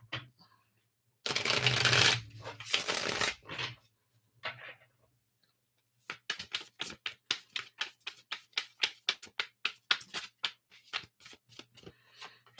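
Tarot cards are shuffled by hand: a dense riffling burst, a few scattered flicks, then a long run of quick, rhythmic card slaps, close and fairly quiet with no talk.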